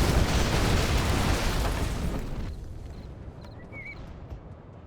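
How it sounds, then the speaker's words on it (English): Carpet bomb explosions in the Command & Conquer Generals strategy game make a loud, continuous rumbling roar that slowly fades over several seconds, with a few faint small pops and a brief chirp toward the end. "Carpet bomb comes in."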